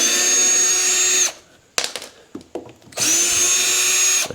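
Cordless power drill backing screws out of trailer ceiling panels, two sustained high whining runs close by, separated by a pause with a few clattering knocks of loose screws and handling.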